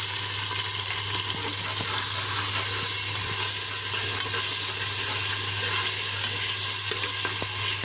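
Onion with a spoonful of ginger-garlic paste frying in oil in a pan, a steady, even sizzle with soft crackle running throughout, close and continuous, with no talking.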